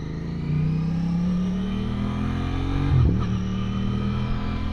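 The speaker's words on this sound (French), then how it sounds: "Petite Golf cabriolet, sympathique." A small Volkswagen Golf convertible's engine hums steadily as it drives past, swelling briefly in the middle as it passes close by.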